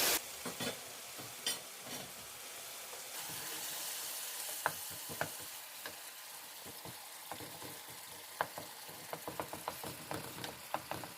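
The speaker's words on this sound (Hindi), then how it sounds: "5 मिनट लगे हैं तकरीबन इसको भूनने में।" Tomato masala fries in a pan for an aloo matar anday salan, a steady close sizzle broken by scattered sharp crackles and pops throughout, with no talking.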